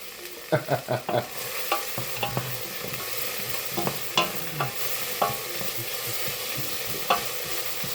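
Onions frying in a pan for spicy sausage rice, with a steady soft sizzle and a string of sharp scraping stirs, several quick ones near the start and then scattered strokes spaced a second or so apart, with no voices.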